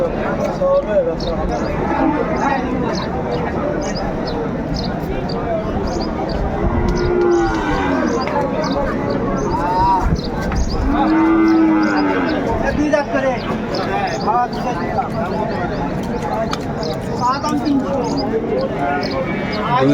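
At a busy Sahiwal cattle market in Ambari, Dinajpur, a few drawn-out moos from young Sahiwal bulls rise from the background. Constant bargaining voices nearly drown them out.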